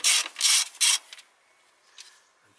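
A socket wrench on nuts on a car engine being repaired, three quick close rasping ratchet strokes, then a short quieter one after a pause.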